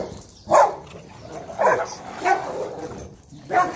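Several dogs gathered together: four short, loud barks and yips spaced irregularly, mixed with whimpering whines, all heard close up over a noisy background.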